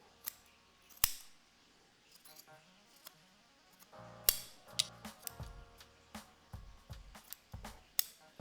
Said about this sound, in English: I know you guys love it when we cut out the logos